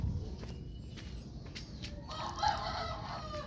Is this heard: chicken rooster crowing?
yes